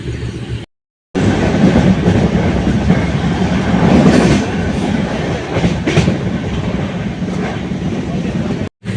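A passenger train runs from Bangalore to Goa, recorded from inside a carriage. A loud, steady rumble carries rhythmic clickety-clack of wheels over rail joints, broken by a brief dropout near the start.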